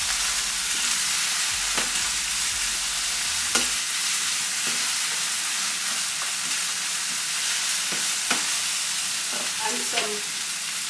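Chicken burger mixture sizzles and fries steadily in a pan, a continuous close crackle with occasional sharper pops and utensil scrapes, no talking.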